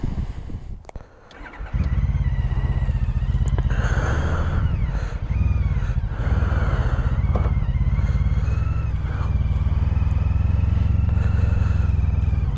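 A Honda CTX1300 motorcycle rides at slow speed with a deep, steady low engine rumble close to the microphone, preceded by a brief rustle and a rise as the engine picks up.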